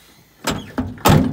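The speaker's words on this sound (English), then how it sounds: "doors actually don't shut." The door of an old car being prepared for a demolition derby is pushed shut. It gives two loud, close, hollow thunks about half a second apart, with a light rattle between them.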